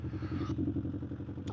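A 1979 Honda CB750F motorcycle engine running, a close, steady low throbbing pulse with a brief higher mechanical clack near the end.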